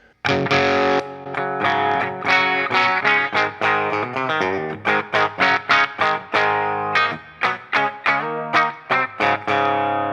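Electric guitar played through the clean channel of a Soldano SLO 100 tube amp, a strummed chordal phrase followed by a run of short, punchy chords with gaps between them, loud and alone.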